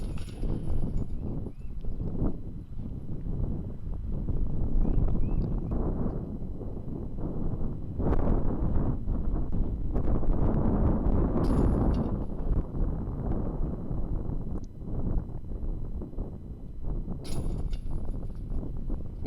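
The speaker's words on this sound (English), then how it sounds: "Wind's picking up a little bit" Gusty wind buffets the microphone on a Kansas golf course during a match-play round, a steady low roar that swells and eases with brief stronger gusts, continuous throughout with no talk.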